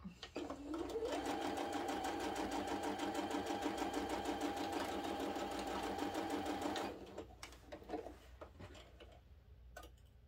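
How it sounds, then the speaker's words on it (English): A sewing machine stitches a quilt block on the bias, a fast, even mechanical whir and needle ticking that runs continuously for about seven seconds, then stops, leaving faint handling sounds. "you're sewing on the bias and mine always get stretched out"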